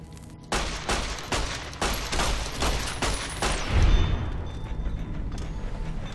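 Gunfire in the video game Fallout: New Vegas, a rapid burst of sharp shots at an even rhythm, followed by a heavier boom and a fading tail.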